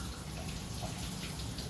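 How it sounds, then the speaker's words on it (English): Hands washed under a running kitchen tap after stuffing pork chops, a steady close rush of water splashing over skin, continuous and alone. "Wash my hands."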